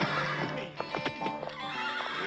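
A horse neighs close by in a quick shaky whinny, with snorts and hoof clatter over steady background noise.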